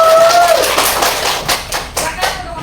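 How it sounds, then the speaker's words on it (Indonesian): Group of students clapping hands in a classroom after a group presentation, a short burst of scattered claps under a raised voice. "tepuk tangan"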